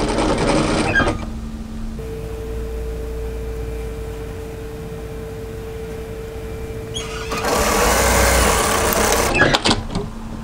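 A sewing machine stitches a three-layer shoulder seam on a knit military-style jacket, running in a steady, close whir that holds for several seconds, with a louder, rougher burst near the end.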